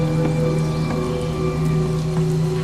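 Steady tropical rain in Panama, a dense constant patter with scattered drop hits over a low droning hum, loud and unbroken throughout.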